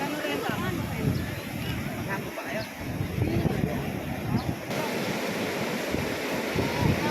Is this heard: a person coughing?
no